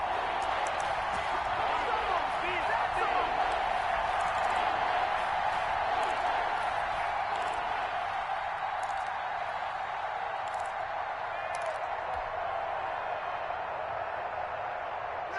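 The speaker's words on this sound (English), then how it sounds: "The crowd getting into it as we come up on a big 3rd down." Broad, steady crowd roar fills a football stadium at a Saints game as a big third down approaches, a sustained wash of noise with scattered claps and a faint commentator voice beneath.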